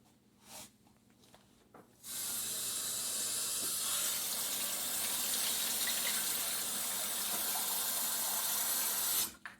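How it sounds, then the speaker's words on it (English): Warm tap water running from a faucet for pirozhki dough, a loud steady hissing gush that starts abruptly after a few faint clicks and stops cleanly near the end. "I'm gonna get warm water"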